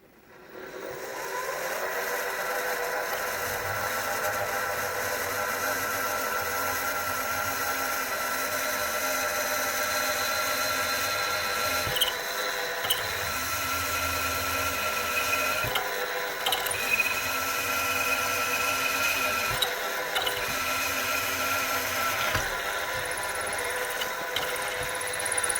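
A drill bit spins steadily against a ground flat on a QB78 air rifle part, a continuous whirring mechanical drone with faint ratcheting clicks, close and loud throughout with no talking.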